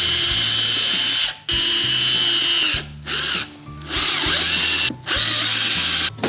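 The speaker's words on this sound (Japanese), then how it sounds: "穴開きました。" A power drill bores a hole for mounting a budget monitor arm inside a small car, running in several loud bursts with a steady motor whine, separated by brief pauses.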